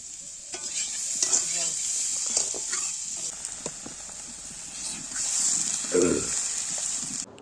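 Cumin, a bay leaf, chopped onion and salt fry in a pan for a curry, giving a continuous bright sizzle with scattered scraping and stirring knocks, fairly close, with no one talking.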